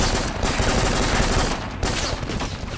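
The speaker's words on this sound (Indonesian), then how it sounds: "pokoknya tembak" Dense, continuous automatic gunfire from the PS2 war game Black, loud and unbroken for nearly three seconds with overlapping shots and a brief dip midway.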